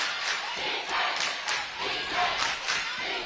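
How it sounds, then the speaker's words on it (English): A basketball crowd at a West Virginia high school boys' AAAA regional championship, Martinsburg at Hedgesville, chants a rhythmic, pulsing defense cheer in a loud arena, with repeated thumping beats roughly every half second. "Crowd chanting defense."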